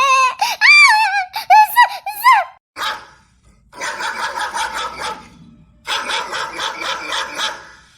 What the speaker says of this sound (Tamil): ஐயோ அந்த பொண்ணை சுத்தி நாய் கூட்டம்ல நிக்குது.